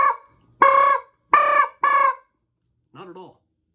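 A goose call is blown to imitate a sandhill crane: four loud, close, honking rolled notes in quick succession, then a softer, fainter fifth note after a pause.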